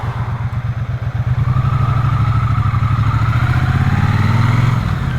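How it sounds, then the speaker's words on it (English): Engine of a Triumph Bonneville T120 motorcycle heard from the saddle, a steady low thumping rumble that builds after the first second and then holds loud and even, with faint mechanical clatter on top. "sitting on the bike, you can hear just the thump of the engine"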